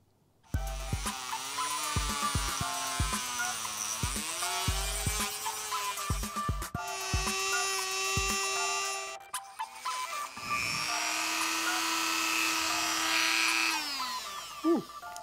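A handheld Dremel rotary tool whines at high speed as it cuts plastic on a Brompton bicycle grip, running in several bursts with pitch dips as it bites and short pauses between passes.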